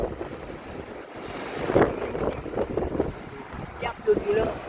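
Sea waves churned up by Typhoon Opong surge and wash continuously, heavily buffeted by wind noise on the microphone, with voices talking faintly in the background.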